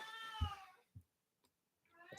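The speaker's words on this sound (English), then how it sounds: "Sorry, my cat's going nuts over there." A pet cat meows loudly and insistently, with a drawn-out cry, a few soft thumps and clicks in a quiet room, then another rising meow.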